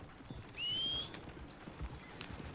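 Horse hooves clip-clop at a steady walking rhythm in Red Dead Redemption 2, moving out toward the trees near Valentine, with a brief high tonal sound rising above the hoofbeats partway through.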